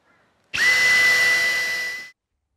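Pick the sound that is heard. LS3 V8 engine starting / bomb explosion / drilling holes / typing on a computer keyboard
drilling holes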